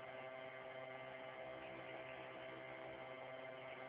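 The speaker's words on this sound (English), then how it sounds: "That's the cooler on." A cooler runs with a steady, faint electrical hum and whir, unbroken and even from start to finish with no other sounds.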